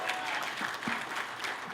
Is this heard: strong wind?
no